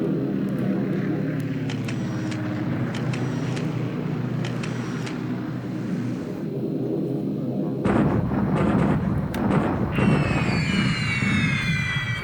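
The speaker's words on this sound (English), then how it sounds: "Still some bombardment on Guam" Naval and air bombardment of Guam in the wargame War in the Pacific: layered booming explosions and droning aircraft engines, with gunfire bursts that build into a denser, louder barrage toward the end.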